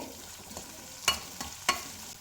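Curry leaves and spices frying in hot oil in a pan give a soft, steady sizzle, broken by two sharp crackles or spatters, close and fairly quiet with no talking.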